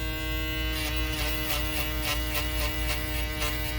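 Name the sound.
electric shaver buzzing during a haircut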